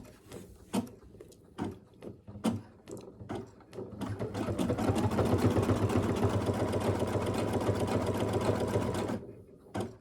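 An embroidery machine sews a satin stitch on a Christmas light applique ornament of clear 8-gauge vinyl: a few separate mechanical clunks and taps, then a loud, steady, rapid stitching whir that runs for several seconds before cutting off.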